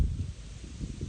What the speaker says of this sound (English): I'm sorry the wind is blowing, so if it's too windy